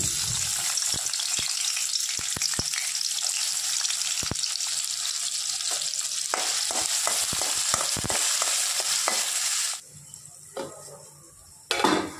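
Hot oil sizzles and crackles steadily in a wok in a home kitchen, with scattered sharp pops and ticks, before the frying suddenly quiets near the end.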